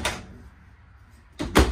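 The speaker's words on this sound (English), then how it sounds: "Soft shut hinges on your doors. So they're not slamming shut." A soft-close cabinet door in an RV travel trailer kitchen swings shut with a brief rustle, then lands with one muffled, close thud and no slam.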